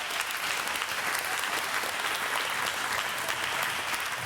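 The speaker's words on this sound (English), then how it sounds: "Do I get an applause for that?" Audience members at a Sukkot midrash Torah study clap together in a steady, even burst of applause, moderately loud and continuous without talk.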